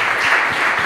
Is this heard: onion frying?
no